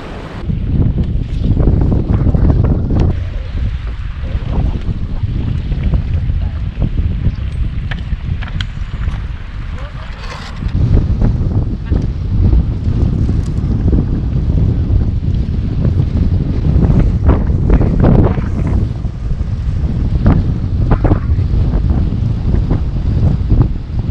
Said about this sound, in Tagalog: sobrang lakas ng hangin tataob yung bangka